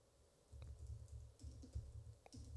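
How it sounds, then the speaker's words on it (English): Keys clatter in quick, uneven bursts of typing on a computer keyboard, close and fairly quiet over a low steady background hum, with brief pauses between runs. "All I can say while I'm typing is that I'm typing."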